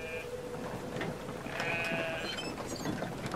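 Sheep bleat in a video game, a few clear, wavering cries standing out over a steady, dense background of game ambience and mechanical whirring, with no talking.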